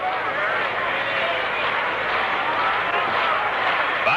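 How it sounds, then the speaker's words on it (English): Baseball stadium crowd at a World Series Game 7 between the Yankees and Milwaukee Braves, a distant, steady roar of cheering fans beneath an announcer's continuous play-by-play commentary. "You can hear the crowd in the background."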